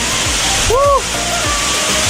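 Steady broadband rush of Rambut waterfall in Lombok, Indonesia, nearby fills the clip, loud and continuous, with a brief voice rising over it midway.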